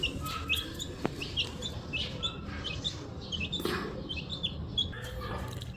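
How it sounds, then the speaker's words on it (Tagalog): Pet lovebirds chirp in quick, high, scattered tweets throughout, fairly close, mixed with other small bird calls and a light background hiss. "And lastly, ito naman mga lovebirds natin."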